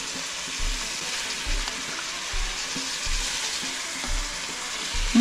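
Marinated pork ribs and onions sizzle and fry in a hot pan, a steady close hiss with occasional soft stirring knocks, with no talking.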